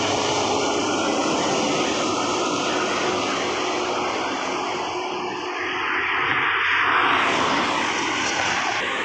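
A bus passes on a toll road with a loud, sustained engine roar and tire rush that swells and fades as it goes by, all over steady traffic noise.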